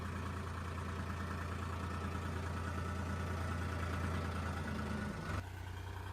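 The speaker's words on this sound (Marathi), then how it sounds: "आज पहिल्यांदा त्याच्याकडे ट्रॅक्टर दिलाय चालू राहिला" A tractor engine idles and runs in a steady low rumble as a beginner drives it for the first time, continuous and close, with a sudden shift in tone near the end and no talk.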